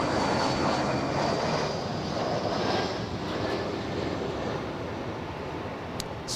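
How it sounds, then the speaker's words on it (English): An Embraer E-175 airliner on approach to land at LAX: a steady, loud, broad jet roar that thins slightly as it passes, heard alone without voices. "we have an E-175 coming into land"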